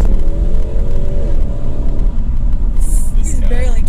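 A V8 car engine revs hard under heavy throttle, a loud droning rumble that climbs in pitch, with people talking over it and a brief higher whine near the end.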